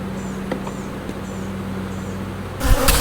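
Honey bees hum continuously around an opened hive while honey is harvested, with a sudden louder rustling burst at the close.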